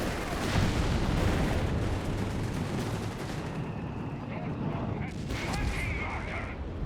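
Mortar and artillery fire in Company of Heroes 3 thud and boom over rattling gunfire in a continuous battle din, with a voice talking throughout.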